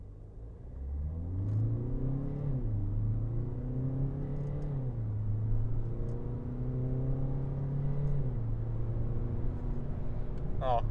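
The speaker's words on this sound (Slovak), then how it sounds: "a dávam plný plyn." A 2023 Citroën C4 X with a 1.5 BlueHDi diesel engine accelerates at full throttle, its engine note rising steadily through several gear changes, heard from inside the cabin as a continuous mid-loud drone.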